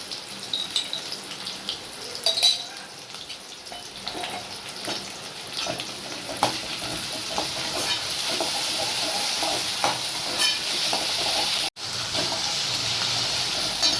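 Steady crackling sizzle of onions frying in a pan, with occasional stirring scrapes and clinks, close and moderately loud throughout.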